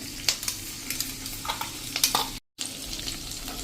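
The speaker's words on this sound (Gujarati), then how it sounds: "અને એને આપણે સરસ આ રીતે તેલમાં કૂક કરી લેશું" Ginger, garlic and green chili paste frying in hot oil with curry leaves for a bottle gourd dish, giving a steady close sizzle with scattered spatters and a brief cut to silence.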